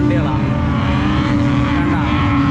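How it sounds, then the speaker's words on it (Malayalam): Engines of cars racing up desert sand dunes at the Liwa festival, a loud continuous roar with steady rising engine tones close by, voices talking over it. "ഇത് കണ്ട് നല്ല റേസ് വെച്ച് പോകുന്ന വണ്ടികളാണ്"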